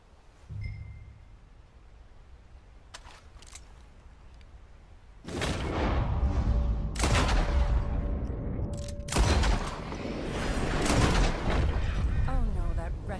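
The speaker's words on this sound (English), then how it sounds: "I'll shoot a few more this time." Gunshots at shooting practice in Red Dead Redemption 2, a few loud, close, booming reports spaced out over a low outdoor backdrop, with talking between shots.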